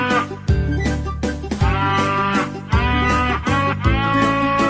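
A cow lets out four drawn-out moos in steady succession, loud and close, with no talking in between.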